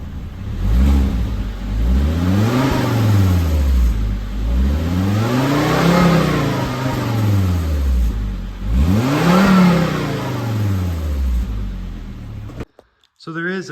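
A Volvo XC70's engine revs in three long, rising-and-falling sweeps, each climbing and easing back smoothly, loud and close, before cutting off abruptly at the end.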